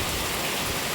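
Heavy rain pours down in a dense, continuous hiss, loud and close, with no pauses or voices.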